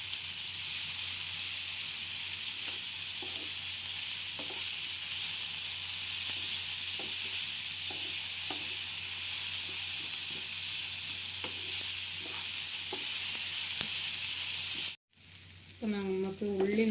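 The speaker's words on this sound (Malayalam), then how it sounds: "അപ്പോൾ നമുക്ക് ഉള്ളി നല്ലോണം വഴന്നിട്ടുണ്ട്" Onions sautéing in a pan give a loud continuous sizzling hiss with occasional stirring scrapes, and it cuts off abruptly before a voice begins speaking at the end.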